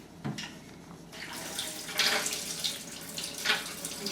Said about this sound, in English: It's time to drain out the brine water.